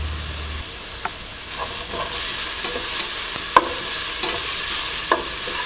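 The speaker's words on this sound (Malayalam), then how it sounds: "ഇതിലോട്ട് എടുത്തു വച്ചിരിക്കുന്ന ഇഞ്ചി, പച്ചമുളക്, വെളുത്തുള്ളി എന്നിവ ഇട്ട് വഴറ്റുക" Onion sautéed in a pan with ginger, green chili and garlic for aloo gobi: a loud, continuous sizzle broken by repeated scraping strokes of a spatula stirring at irregular intervals, with no voices.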